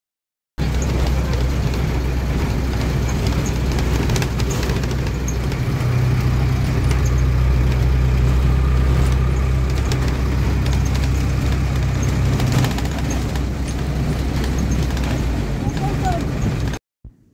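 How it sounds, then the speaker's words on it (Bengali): Steady low engine rumble and road noise from inside a moving bus, continuous and fairly loud throughout with faint rattles, heading toward a railway junction. "আমরা বাসে উঠে পড়েছি"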